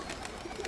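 Young pigeons give a soft, short cooing call, close and fairly quiet over a light background hiss, with no talking.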